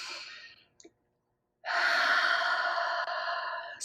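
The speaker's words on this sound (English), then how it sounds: "Deep breath in, deep, deep breath in." Long, loud breath drawn in during a guided meditation exercise, a short catch before it, then a sustained airy inhale filling the moment, close and alone without talk.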